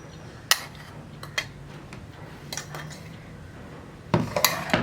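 A metal spoon stirs a ground rice mixture for ari unda, made from ration rice, inside a mixer jar, giving scattered sharp clinks and scrapes with a quick cluster of knocks at the end, close and alone.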